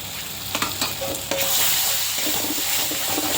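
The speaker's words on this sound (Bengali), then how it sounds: "সঙ্গে একটু জল দিয়ে ভালো করে মশলাটাকে কষে নেব" Masala paste with cashew and poppy seed paste fries in a pan while being stirred, giving a loud, continuous close sizzle with scraping spoon strokes near the start.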